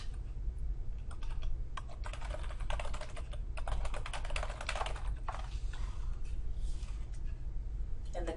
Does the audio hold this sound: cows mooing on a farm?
no